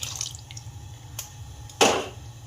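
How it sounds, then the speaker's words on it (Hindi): Water is poured briefly into a pan of chicken mince and tomato paste, a short splash near the end after faint dripping and low kitchen hum. "इसमें हम थोड़ा सा पानी डालेंगे"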